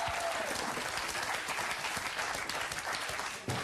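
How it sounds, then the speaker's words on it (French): A studio audience applauds a fakir act on a French TV game show, dense steady clapping throughout that fades slightly near the end. "On peut applaudir encore une fois Fakir Bouboun"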